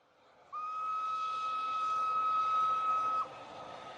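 A steam train whistle sounds one long, steady, loud tone lasting a few seconds, then cuts off against a low rumbling background.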